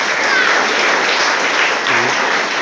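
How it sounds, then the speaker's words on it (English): A crowd claps for a prize winner at a school prize distribution for a painting competition, a steady, full burst of applause filling the whole moment. "We'll give a huge round of applause for Lucky Chanu."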